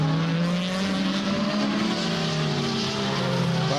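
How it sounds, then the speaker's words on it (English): DTM race car at the Hockenheim circuit, a sustained engine drone with steady harmonic tones held at the pit speed limiter, loud and continuous throughout with no pauses. "So Ekstrom comes in, of course, on the pit speed limiter."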